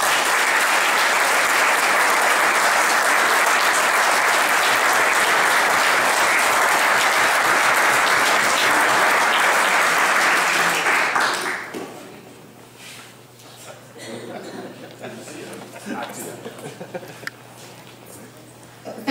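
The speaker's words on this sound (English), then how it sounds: "join me in a round of applause for these hardworking committee members" Sustained, dense applause from a banquet audience at a Remembrance Day veterans' dinner, honouring committee members, loud and steady for about eleven seconds before abruptly dying away into quiet room noise and faint murmuring.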